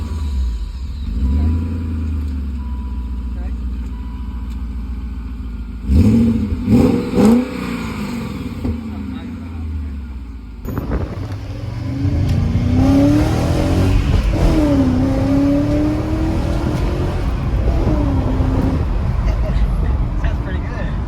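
A supercharged car engine with its muffler deleted idles rough and loud, blips through a few sharp revs, then settles into a throaty, rising and falling rev with whine, while people talk over it.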